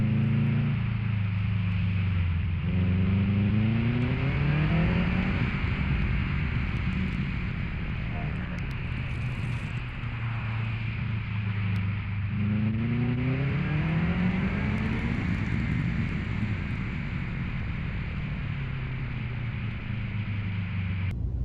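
A 2006 Subaru STI at full throttle powering out of a drift on a winter autocross course, its engine note rising and falling in long sweeping pulls under steady wind noise, with a voice talking over it.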